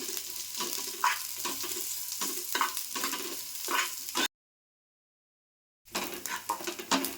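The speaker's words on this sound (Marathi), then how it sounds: "थोडंसं तेल टाकते भाजण्यासाठी कांदा लालसर भाजून घ्यायचा" Onion fries in a little oil in a pan, giving a steady close sizzle with repeated scraping stir strokes, then a brief cut to silence before the sizzling and stirring resume.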